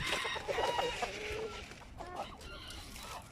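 Several chickens cluck and squawk close by in short, irregular bursts, with faint farmyard noise around them.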